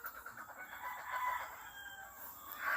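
Gamefowl hens and chickens in a yard, with a rooster crowing and hens clucking at middle distance, the calls rising and trailing off.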